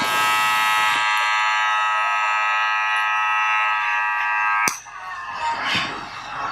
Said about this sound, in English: when you're using the clipper over comb and you're going in to scoop the hair